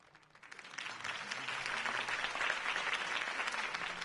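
Video-game crowd at a political campaign rally breaks into sustained applause after a speech, a dense wash of clapping that swells and holds steady, moderately distant.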